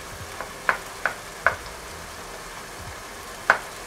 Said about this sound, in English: Breaking the mince into small chunks